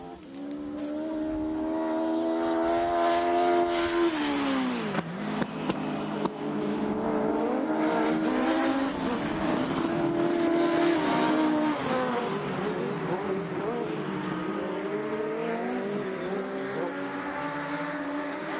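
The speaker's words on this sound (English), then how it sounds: "I can hear the cars coming in a distance" Several race car engines roar loudly and steadily on an ice track at Botniaring, their pitch rising and falling as they speed past close by, with a continuous droning blend of motors.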